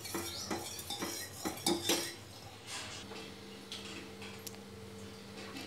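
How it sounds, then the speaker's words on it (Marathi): A metal utensil clinks and scrapes against a pot of boiling milk and sugar for basundi, several sharp knocks early, then softer continuous stirring with a steady hum underneath. "यात आपल्या गोडी अनुसार साखर व्यवस्थितपणे एकत्र करून घेऊया. हे आपल्याला सतत ढवळत राहायचं आहे"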